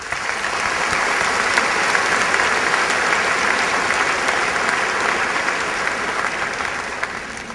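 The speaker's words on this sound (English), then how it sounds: "Please join me in a round of applause for these people." An audience at the 2006 RHS graduation ceremony applauds in a dense, steady roar of clapping that holds evenly throughout, with a faint crowd murmur underneath.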